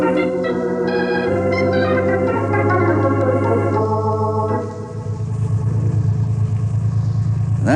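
Car engines idle and rumble outside in an old-time ranger drama, a steady mid-pitched motor drone with a brief dip before it swells again, no voices over it.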